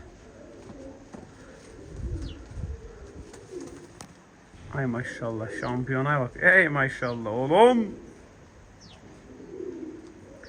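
Pigeons coo in a loft, several throaty rolling coos clustered over a few seconds, close and clear, while someone talks before and over them.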